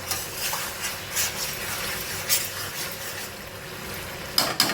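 Meat fries in plenty of oil in a pan, a steady soft sizzle with occasional scraping and stirring clatters, no talk.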